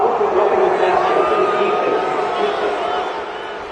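A stadium crowd in an American football video game reacts to a penalty against the home team, a loud, steady roar of boos and murmuring that fades slightly toward the end.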